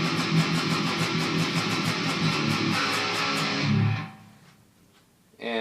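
Palm-muted electric guitar chugging in a galloping rhythm for a pre-chorus, dense and distorted, running steadily for about four seconds before dropping to a quiet tail and a fresh attack at the end.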